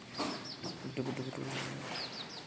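A hen with her chicks clucks at home, with high, repeated chick peeps in short bursts and lower clucks, fairly close, under a person talking.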